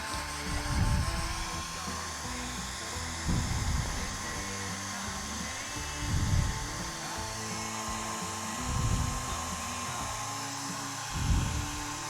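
A hair dryer drying wet paint, blowing in a steady close whir with regular louder surges about every two and a half seconds as it sweeps back and forth.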